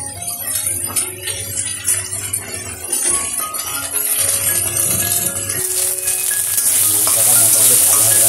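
A spice paste of turmeric and chilli sizzles in a pan after black cumin seeds for a Bengali-style hilsa fish curry. The frying is loud and steady with stirring scrapes, growing to a bright hiss near the end.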